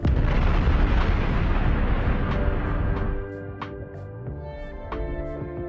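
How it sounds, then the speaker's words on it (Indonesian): A heavy helicopter explosion after the aircraft crashes into water rumbles and roars, then decays into a ringing tail with scattered sharp bursts and a tonal musical hum. "membuat helikopter tersebut meledak"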